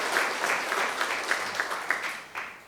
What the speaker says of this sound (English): let's give them a round of applause of congratulations.